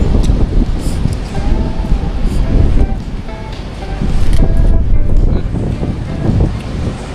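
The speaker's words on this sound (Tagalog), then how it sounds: "Sobrang lakas na po ng hangin." Strong typhoon wind roars and buffets the microphone in a steady low rumble, with voices talking faintly underneath, in Taiwan.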